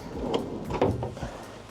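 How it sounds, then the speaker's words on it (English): A storage drawer in a New York Times Square hotel room slides open or shut with a few close, muffled knocks and a brief rolling scrape. "And some more storage drawers here for your items."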